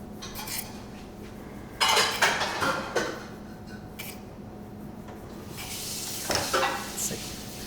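A knife chopping food into small even bits on a board in a home Indian kitchen, with several bursts of close clattering and scraping and no talking.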